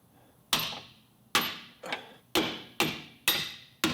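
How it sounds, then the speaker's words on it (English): Seven sharp metallic hammer strikes drive out a lower control arm bolt against a pry bar on a 2002-06 Toyota Camry, spaced unevenly about half a second apart, each ringing briefly and loud up close. "and while hammering it out"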